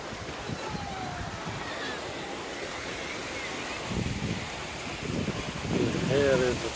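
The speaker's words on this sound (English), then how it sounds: "So from here is the Romana Beach." Surf washing onto La Romana Beach in Mallorca, Spain, a steady outdoor wash of waves with wind noise on the microphone, swelling louder in a few breaking surges near the end.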